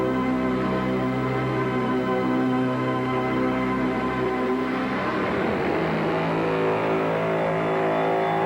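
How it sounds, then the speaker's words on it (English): A race car engine on a racetrack, recorded at a 1986 speed record attempt, holds a loud, steady harmonic drone that rises in pitch and builds as the car accelerates out of the pits, with no talk over it. "As she accelerated out of the pits and onto the racetrack, Lynn was all alone."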